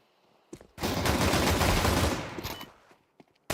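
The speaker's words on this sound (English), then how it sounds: "A couple nice shots coming out of Glowin and Blixie." Pistol gunshots in Counter-Strike on the Dust2 map, heard as a dense, loud volley of overlapping shots lasting about two seconds, with a few isolated sharp cracks before and after and no voices.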